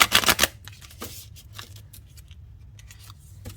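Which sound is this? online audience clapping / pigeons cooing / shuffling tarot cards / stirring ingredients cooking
shuffling tarot cards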